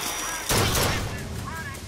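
Gunfire in the video game Bioshock Infinite, a sharp loud shot followed by a decaying crackle over constant game ambience, with someone speaking.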